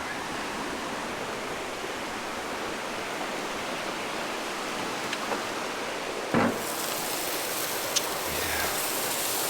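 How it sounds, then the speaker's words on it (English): A creek beside a Colorado cabin rushes loudly in a constant, dense hiss of water, with a couple of faint knocks and clatters nearby. "Water's so loud."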